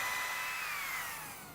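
A power drill spins a crimped wire cup brush over a rusty cast iron surface, giving a steady, fairly loud whirring grind with a high whine that slowly falls in pitch, alone with no talk.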